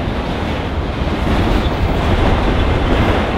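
A freight train passes at a railroad siding in Texas, a loud, close, continuous rumbling roar of rolling cars that holds steady throughout without any voices.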